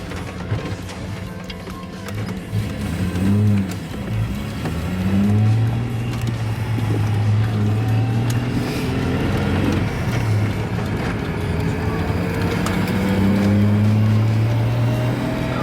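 A ute fitted with a 4.11 limited-slip diff drives around the block in second gear at about 2,500 RPM, its engine a loud, close, continuous drone whose tones climb and settle as it accelerates and eases off, with no talking.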